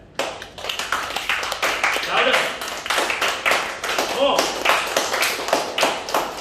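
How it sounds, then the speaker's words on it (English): A classroom of students claps hands together on request: dense, continuous rapid applause from many hands, fairly close and loud, surging in waves across the whole stretch while a voice calls out over it. "But first, I want you guys to clap."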